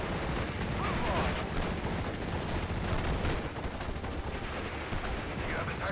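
Gunfire and artillery in the WWII strategy game Steel Division Normandy 44, a dense continuous barrage of shots and blasts with scattered bursts, under faint voices.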